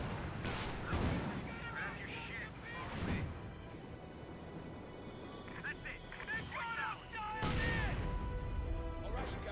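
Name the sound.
artillery fire from the video game Company of Heroes 2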